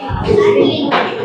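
A class of schoolchildren claps, a short burst of scattered applause mixed with children's voices, close and fairly loud.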